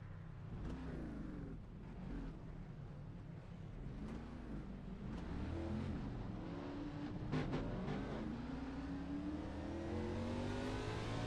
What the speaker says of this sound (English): As the cars are pitting.